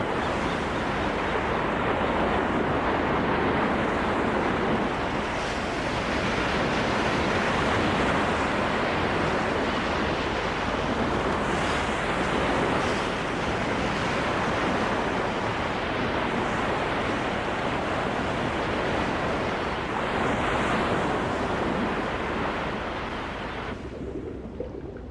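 Ocean waves and surf churn in a severe storm where kelp forests grow, a loud, unbroken roar of crashing water that holds steady and eases slightly at the end.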